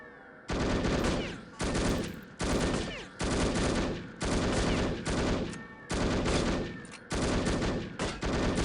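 Gunfire in the spy shooter No One Lives Forever: loud, close bursts of rapid automatic shots come in repeated volleys about once a second, separated by short gaps.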